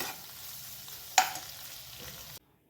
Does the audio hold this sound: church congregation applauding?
no